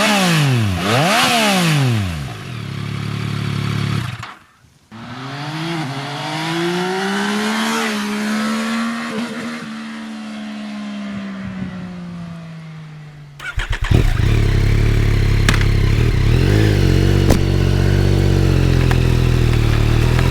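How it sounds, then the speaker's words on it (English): A Yamaha XSR 900 motorcycle accelerates hard through the gears with rising and falling engine and intake roar, pausing briefly between shifts, then sits at a loud, rough, throbbing idle close by. "The intake noise is clearly audible when accelerating, and so every acceleration is accompanied acoustically appropriately."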